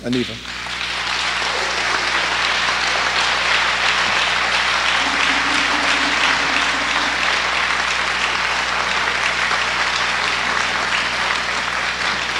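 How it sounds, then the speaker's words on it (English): An audience in New York gives a sustained round of applause, dense and loud, with claps blending into a steady roar that holds at full level for over ten seconds. "have you welcome her with a big New York round of applause to the city"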